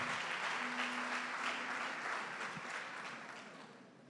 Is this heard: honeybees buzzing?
no